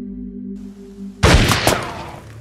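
After a quiet musical tone, a sudden loud burst of gunfire erupts, with a few rapid cracks following in quick succession.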